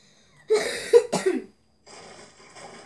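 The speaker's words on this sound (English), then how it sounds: "my entire class has to listen to me cough" A person gives a burst of several harsh coughs close to the microphone, followed by a quieter, breathy rasp after a short pause.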